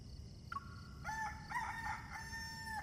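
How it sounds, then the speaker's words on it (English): A rooster crows in a few drawn-out calls from a fantasy stable setting in the game Love & DeepSpace, fairly quiet and set against a low ambient background. "The rooster already crowed."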